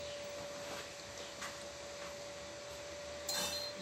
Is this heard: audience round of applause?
no